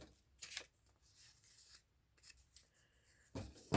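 Scissors snip through a paper belly band in short, crisp cuts that come in a few separate bursts, with a louder rustle of paper at the end and no talking.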